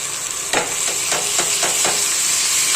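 Sliced onions sizzle as they brown in a hot pan, a loud, continuous hiss broken by several rhythmic scraping stirs close up.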